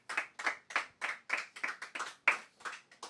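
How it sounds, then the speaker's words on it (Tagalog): A congregation at a Filipino Pentecostal worship service claps for the Lord in a brisk, steady rhythm of about a dozen crisp, loud claps, with no voices over them. "Yung malakas na palakpak para sa Panginoon."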